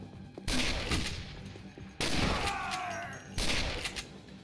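A grenade blast goes off in the video game SAS Secure Tomorrow, set among repeated loud, broad bursts of gunfire that rise and fall over about four seconds.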